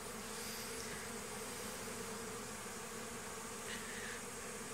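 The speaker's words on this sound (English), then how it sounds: "That's why there's bees clustering over there." Honeybees buzzing around a hive entrance, a steady dense hum of many bees close by, with no voices over it.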